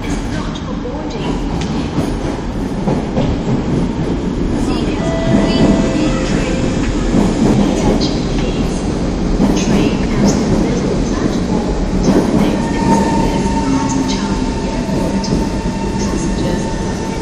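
An SMRT C151 metro train rumbles and rolls along the rails arriving at Tanah Merah station, with clattering wheels and faint squeals, a steady loud roar that swells slightly midway.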